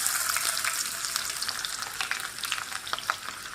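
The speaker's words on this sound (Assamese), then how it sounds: "তেল গৰম হ'ল, এতিয়া মই পিঁয়াজখিনি দি আছোঁ" Onions sizzle steadily in hot oil in a home kitchen, with occasional soft taps and scrapes of stirring over the quiet, crackling fry. No one speaks.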